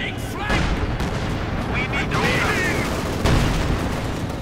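Mortar rounds and heavy explosions from the real-time strategy game Company of Heroes 2, a dense, continuous barrage of booms and gunfire with loud impacts layered throughout, under a busy battle mix.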